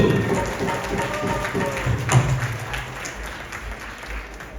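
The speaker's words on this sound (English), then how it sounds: "Please give a round of applause for Vad and Vadhu." Guests at a Hindu Vivaah Sanskar wedding ceremony clap for the bride and groom, a modest, moderately close round of applause with a few sharper taps and a low background hum, no speech over it.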